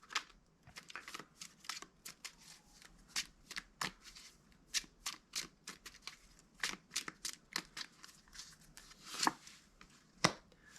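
Tarot cards being shuffled by hand, a long run of crisp riffling bursts and slaps in an irregular rhythm, close and clear in a quiet room.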